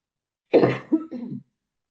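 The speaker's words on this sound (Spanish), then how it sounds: "perdón que tengo tos." A single close cough, a sharp burst followed by a couple of rougher throaty hacks, all within about a second, then silence.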